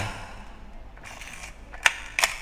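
Soft mechanical clicks and winding noises from a Nikon FM film camera, then two crisp, sharp shutter clicks close to the microphone near the end.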